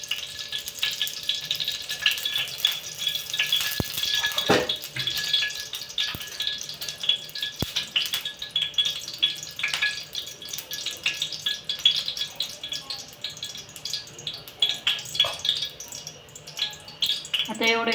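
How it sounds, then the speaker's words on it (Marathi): Milk boils in a pot on an Indian kitchen stove while kheer is being made, giving a continuous soft bubbling and simmering hiss that runs steadily for the whole stretch. A few faint clinks are heard, and there is no speech. "इकडे दूध उकळत आहे."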